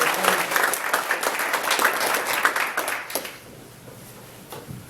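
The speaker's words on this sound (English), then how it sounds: "she deserves a round of applause" Audience at a scholarship awards luncheon in Tucson bursts into applause, dense clapping for about three seconds before thinning out to a few scattered claps, with faint murmuring underneath.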